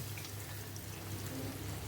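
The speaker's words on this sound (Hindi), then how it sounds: "पानी डाल रहे हैं हम" Water is poured into a pan of methi chicken, a soft steady trickle and splash heard close but fairly faint over a low background hum, with no talk.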